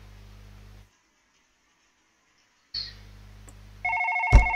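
Shrill electronic ringing of a telephone in a late-night video game, starting partway through and sounding loud and close, with a steady hum before it and a stretch of near silence before that.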